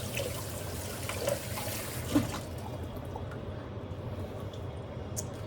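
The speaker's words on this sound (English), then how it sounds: "I'm gonna wash my hands real quick." Running water from a kitchen sink tap splashes steadily over hands being washed, a soft continuous trickle with a couple of light knocks, close by and without speech.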